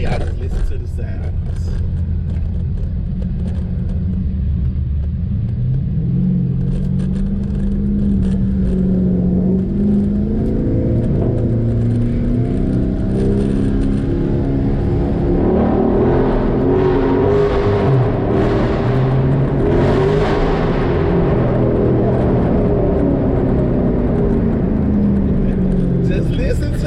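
NASCAR race cars circling the Daytona track, heard from a driver's seat in traffic: a continuous loud engine roar whose pitch climbs and falls through revs and passing cars.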